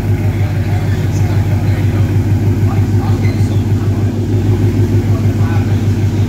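A Ford Mustang GT V8 with a Stainless Works catback exhaust, heard from outside the car, rumbles steadily at a low idle, loud and close with a pulsing beat.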